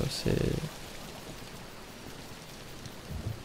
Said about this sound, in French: c'est la pluie qui annonce la nuit de sang